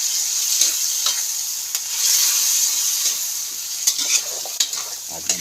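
Argentina corned beef stirred and frying in a pan, a constant bright sizzle with scraping strokes of a utensil recurring throughout, close and fairly quiet.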